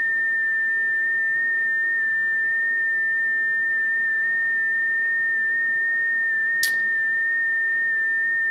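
An FT8 digital-mode transmission from a QMX transceiver sounds as a steady, thin, whistle-like tone held unbroken throughout, with one brief click near the end.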